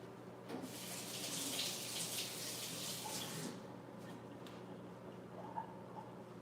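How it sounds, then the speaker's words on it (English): Tap water running steadily into a sink while a hand is rinsed in a kitchen, a soft, close splashing flow that thins after a few seconds to a quieter trickle with light clatter. "Let me rinse my hand off."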